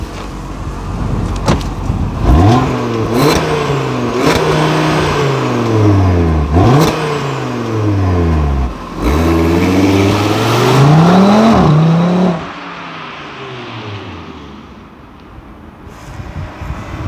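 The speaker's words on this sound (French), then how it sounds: "on va vous faire écouter le son moteur" An Audi RS3 engine revs repeatedly, several sharp climbing blips with quick drops between them, loud and close, then settles to a lower rumbling idle.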